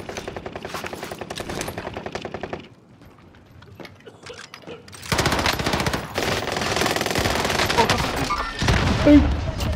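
Gunfire in the video game Squad, rapid automatic bursts with mechanical clatter, a quieter gap, then a sustained dense stretch of shooting, with players talking.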